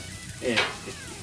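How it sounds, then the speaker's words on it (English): Onions and peppers sizzling in a pan for fried rice, a steady hiss with a short swell of louder scraping and spattering near the middle of the brief moment. "let's get those onions and peppers sweated down here"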